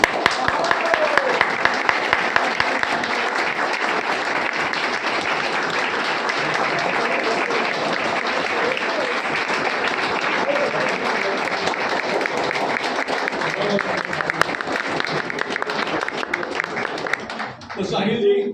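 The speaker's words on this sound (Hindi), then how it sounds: "और जोरदार तालियों के साथ स्वागत किया जाए साहिल" An indoor audience at a training session for a sports nutrition range claps steadily and loudly for a long stretch to welcome a guest, the applause fading near the end.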